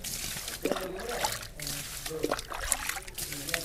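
Water drains from a snakehead fish tank, trickling and sloshing close by in uneven bursts as people talk over it.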